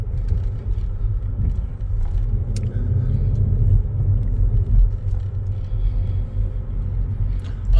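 A car pulls away and accelerates after an intersection during a driving lesson, a steady loud low engine rumble running throughout with no talk.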